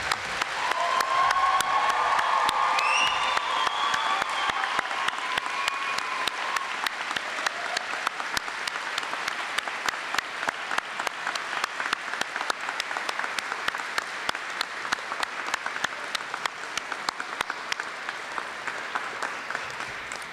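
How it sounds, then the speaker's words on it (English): Sustained applause with some cheering from a convocation audience honoring standing faculty at Camosun College's School of Arts & Science and School of Trades & Technology ceremony, steady and dense for about twenty seconds, with a few whoops early on. "So could you stand, and we're going to give you an applause."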